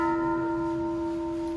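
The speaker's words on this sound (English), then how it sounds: "That one sounds like a church bell." A drip-welded metal sculpture struck and left ringing like a church bell, a clear sustained bell tone with several steady overtones that fade slowly, heard alone at moderate loudness.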